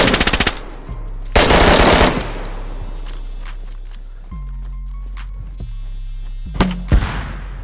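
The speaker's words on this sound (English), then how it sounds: "Somebody shooting, I don't know who." Gunfire in the video game DayZ: bursts of rapid automatic fire and loud single shots, some close and some more distant, broken by quieter gaps with game sounds.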